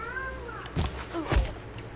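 Sick cat meowing indoors, two short strained meows over a faint steady background hum, fairly quiet with a soft thump.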